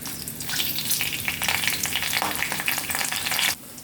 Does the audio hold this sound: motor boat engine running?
no